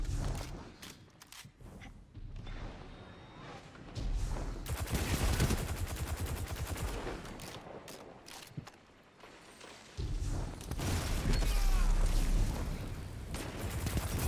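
Video game gunfire in a shooter match, with sustained loud volleys and rapid bursts that stop briefly in a quieter lull before heavy firing resumes.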